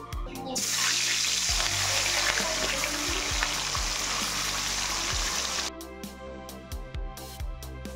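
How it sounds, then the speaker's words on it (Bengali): Rohu fish fries in hot oil, a loud dense sizzle that runs steadily for several seconds, then drops to a softer crackle with clinks and scraping from a utensil. "রুই মাছ ভেজে নিলাম।"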